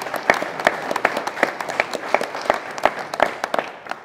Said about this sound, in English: let's give all these folks a round of applause